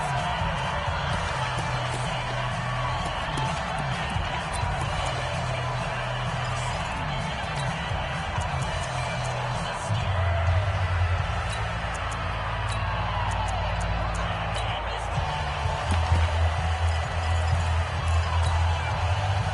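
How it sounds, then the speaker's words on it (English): Crowd in a football video game on PS4 rumbles as a broad, steady roar that swells slightly as a big third down approaches, with no clear separate cheers or claps. "the crowd getting into it as we come up on a big 3rd down"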